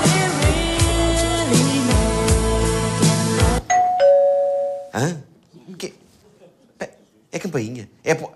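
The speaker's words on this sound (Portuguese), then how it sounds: "É campainha." A doorbell rings in a Portuguese comedy sketch. Music cuts off abruptly, then a short two-tone chime sounds clearly, followed by people talking and moving nearby.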